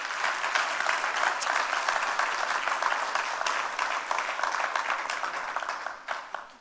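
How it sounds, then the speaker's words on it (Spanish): Church congregation clapping hard, a loud sustained roar of many hands that holds steady and then tapers off at the end. "De esas palmas fuertes entonces."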